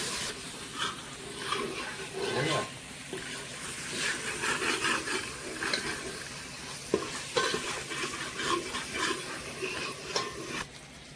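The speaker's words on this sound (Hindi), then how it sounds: "इसी तरह अच्छे से धीमी आंच पर टमाटर के पेस्ट को हिलाते हुए सेकना है" Tomato paste stirred and roasted in a pan over low heat, soft continuous sizzling with irregular scraping strokes of a spoon against the pan, close up and steady without any talking.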